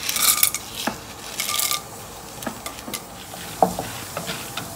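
Chana dal is stirred in hot sesame oil, with scattered scraping and clinking strokes of a ladle against the pan over a soft background sizzle, several sharp taps spread across the clip.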